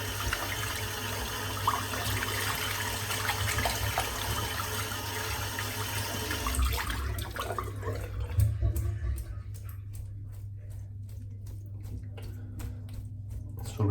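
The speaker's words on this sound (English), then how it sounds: "So rinse all the water out of your brush as much as you can." Tap water runs steadily while soap is rinsed out of a shaving brush at a sink, a close, continuous splashing rush that gives way to scattered drips and ticks.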